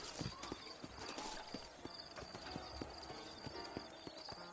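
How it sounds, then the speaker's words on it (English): Horses in the Red Dead Redemption video game clop steadily with hooves and whinny over a busy in-game soundscape, with speech partly mixed in. "You ain't gonna find sturdier horses than these in all of New Ulster."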